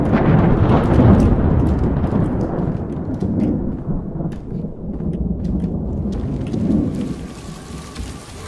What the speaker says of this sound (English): Where did the storm sound just come from? Oh my God, is it raining?